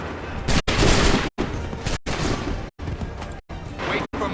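A musket volley in Assassin's Creed III Remastered erupts in repeated loud crashing bursts, each salvo separated by brief silent gaps in a steady staccato rhythm.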